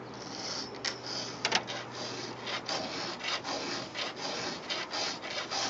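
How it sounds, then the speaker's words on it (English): A hand file scrapes along the chisel teeth of a chainsaw chain in repeated close, rasping strokes, steady in rhythm, with no talking. "that's Chainsaw Filing 101"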